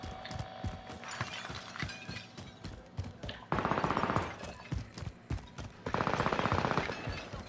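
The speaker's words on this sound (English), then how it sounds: "I'm taking fire." Rapid bursts of gunfire in a video game, two sustained loud volleys of automatic fire following scattered mechanical clicks and clatter, with brief talk mixed in.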